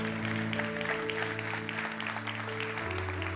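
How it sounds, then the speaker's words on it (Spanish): Steady applause from a church congregation fills the clip, with sustained music tones ringing underneath throughout. "Ese aplauso para el Señor."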